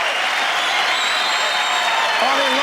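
Studio crowd at an American Gladiators event cheering and applauding steadily and loudly after a contest win, a dense continuous roar with whistles rising near the end.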